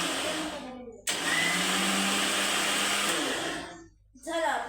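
A kitchen mixer grinder whirs loudly for about three seconds while blending juice, starting abruptly and winding down, with brief speech before and after.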